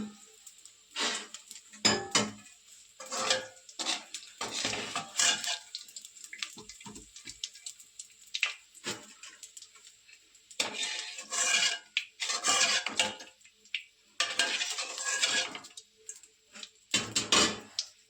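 Edible gum (gund) frying in hot oil in a pan until golden, a sizzling, bubbling crackle that swells and fades in bursts with brief quiet gaps between, close and moderately loud, with no voices.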